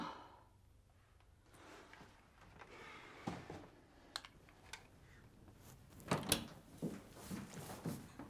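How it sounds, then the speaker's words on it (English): A front door on a flat landing is unlocked and pulled open, with a few short knocks and a latch clatter that build to a louder burst near the end. No one speaks over it. "Open the door."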